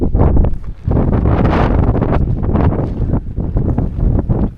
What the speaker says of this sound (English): it's a bit windy, a little bit cold.